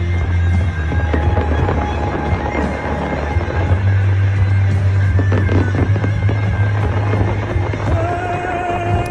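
Golden fireworks burst continuously overhead, dense crackling and booming explosions layered into a loud, sustained roar with no break.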